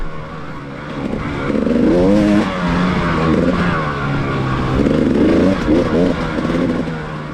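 A group of about fourteen motorbikes rides together, engines droning steadily with repeated rises and falls in revs, loud and close throughout with no talk.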